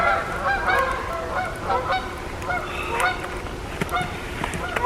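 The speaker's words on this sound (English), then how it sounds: "The geese are back." A flock of geese honks repeatedly in a winter setting below freezing, the overlapping calls carrying clearly at moderate distance over a faint background.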